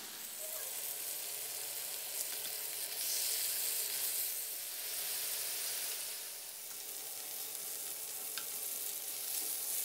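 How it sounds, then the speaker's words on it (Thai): Continuous crackling sizzle of pork grilling over heat, a steady hissing bed with occasional pops, close up and unbroken. "เดี๋ยวเราย่างหมูเรากันให้เสร็จเลยนะครับ"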